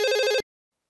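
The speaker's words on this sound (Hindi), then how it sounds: "अम्ना और रुस्तम अंकल ने फोन लगाओ" A telephone rings once on an outgoing call, a short, loud electronic trill lasting under half a second that cuts off abruptly into silence.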